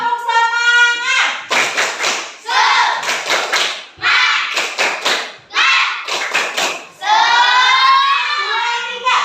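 A classroom rhythmic spirit clap led by a teacher with pupils, short bursts of patterned group claps alternating with chanted voices, loud and close in a small room.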